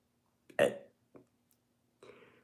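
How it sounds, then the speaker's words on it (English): A man burps once, short and close in a quiet room. A small hiccup-like catch and a breathy throat sound follow. "There's my weekly burp every episode."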